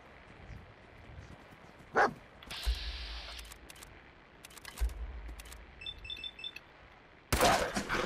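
A dog in Fallout 4 barks in a few sharp, isolated bursts amid other game sounds, including loud thumps and a burst near the end.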